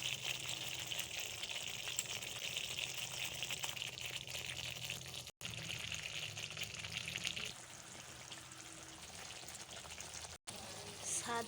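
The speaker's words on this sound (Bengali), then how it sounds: "এবারে মাছগুলো দিয়ে দেব।" Rohu fish pieces going into a boiling yogurt gravy, giving a steady, close bubbling sizzle that holds evenly, softens partway through, and carries no talk.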